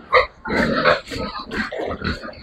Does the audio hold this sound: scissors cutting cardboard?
no